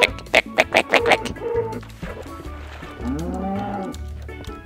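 Cattle mooing in the video game Minecraft: several short bursts, then drawn-out moos that rise and fall, loud and close, with no talk over them.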